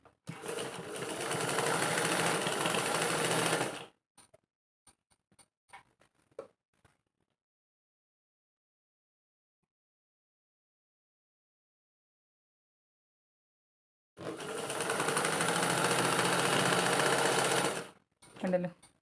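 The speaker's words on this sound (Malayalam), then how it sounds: "ഇത് നൈറ്റിയുടെ ഈ ഒരു എൻഡുമായിട്ട് നമ്മളതൊന്ന് സ്റ്റിച്ച് ചെയ്ത് അങ്ങോട്ട് പോവുകയാണ് ചെയ്യുന്നത്" Sewing machine running steadily while stitching along the edge of a nightie's fabric, two loud sustained bursts of a few seconds each separated by a long quiet gap with faint handling clicks.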